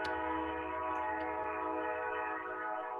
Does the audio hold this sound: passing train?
yes